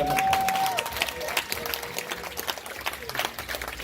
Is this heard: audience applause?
yes